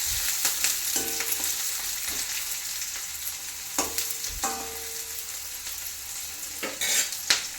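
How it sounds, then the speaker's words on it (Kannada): Onions and curry leaves roasting in a pan for fish sambar, a soft continuous sizzle punctuated by several sharp scrapes and clatters of stirring, close and without talk. "ಈರುಳ್ಳಿ ಸ್ವಲ್ಪ ರೋಸ್ಟ್ ಆಗಬೇಕು."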